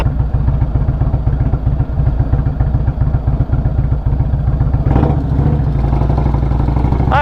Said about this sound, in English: We're on the new bike for the channel, the 21 Indian Chieftain Limited.